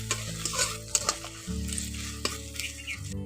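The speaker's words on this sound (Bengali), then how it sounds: "এই উপকরণগুলো দিয়ে একটু মশলাটাকে ভালো করে ভেজে নিচ্ছি" Spice masala with turmeric and red chilli powder frying in a pan for an egg and ridge gourd dish, a continuous close sizzle broken by repeated scraping stirs and a few clinks of the spatula.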